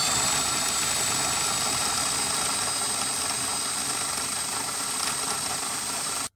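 A Bosch installation driver runs at low RPM on a test rig, giving a steady, loud motor whine with a high tone that holds for about six seconds before cutting off, with no talk.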